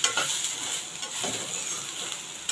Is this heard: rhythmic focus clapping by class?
no